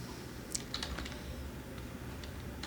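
C++ code being typed on a computer keyboard: a quick burst of soft key clicks early on, then sparse faint taps over a steady background hiss, close and quiet, with no speech.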